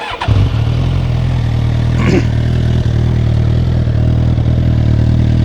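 A 2019 Suzuki Katana motorcycle fires up with a brief starter whir, then settles into a loud, close, steady deep idle rumble that runs unbroken to the end.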